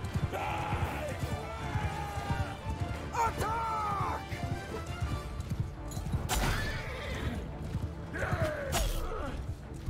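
A horse neighs loudly several times over steady galloping hoofbeats and battle clamour in the medieval combat game Mount and Blade 2: Bannerlord, with voices mixed in.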